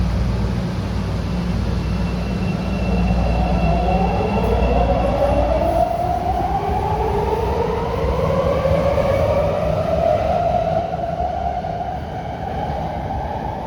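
A CTA Red Line train departs on a new elevated track structure, a loud, continuous rumble of wheels and motors with rising whine tones sweeping upward as it pulls away, no voices.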